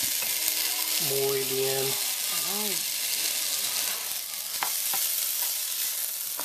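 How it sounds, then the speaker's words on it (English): Rice fries in a pan with onions and garlic under a constant close hiss and crackle, while a voice speaks briefly over the sizzle. "there's the rice already going in the pan"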